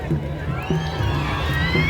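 A large crowd at a dragon boat race final in Hong Kong cheers and shouts with steady, loud energy, a dense roar of voices filling the space without pause.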